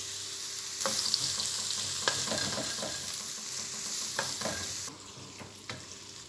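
Frying in olive oil gives a steady bright sizzle with occasional stirring clicks, close up, easing to a quieter hiss near the end; no talking.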